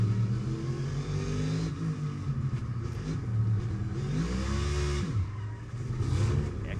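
Onboard a NASCAR Cup Series race car at the Indianapolis Brickyard road course, the engine roars loud and close throughout, its pitch climbing and dropping through shifts and braking with sustained revving.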